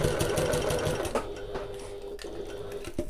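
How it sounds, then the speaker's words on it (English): A sewing machine stitches a bag strap in a steady rapid run, pauses briefly and changes pace as it back stitches, then runs again; the machine sounds close and fairly loud with no talk. "I'm going to sew all the way to the end, back stitch all the way off again and back again"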